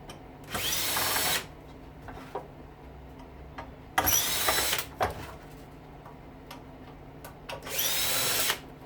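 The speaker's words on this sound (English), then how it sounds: "I just started taking the screws off" Power drill backing screws out of a heavy steel Thunderhead fogger, three separate whirring bursts of about a second each spaced a few seconds apart, close, with small clicks and handling noises between.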